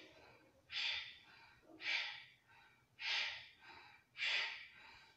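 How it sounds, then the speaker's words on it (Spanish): Breath of fire in a yoga detox and abdominal session: four forceful, evenly spaced breathy bursts about a second apart, close and clear against a quiet background. "Casi es como una respiración de fuego."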